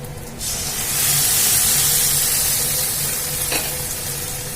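Loud, steady sizzling and hissing as lentils are added to hot oil tempering for ginger dal, with a brief clatter partway through and no talking.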